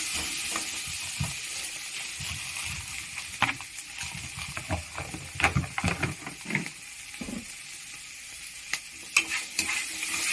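Potato-and-egg cutlet mixture spiced with black pepper, green chili and chili powder fries in a pan under a steady close sizzle, broken by irregular scrapes and clicks of a spatula stirring throughout.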